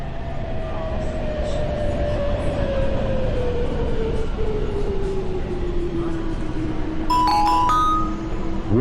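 A SkyTrain arrives at a station, with a loud, close rumble and a slowly falling electric whine. A short chime-like tone comes near the end.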